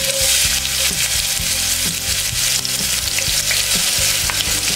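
Onion frying in vegetable oil, a loud, dense, continuous sizzle close by with light stirring knocks, no voices.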